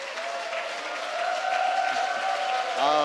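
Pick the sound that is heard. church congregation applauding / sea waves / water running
church congregation applauding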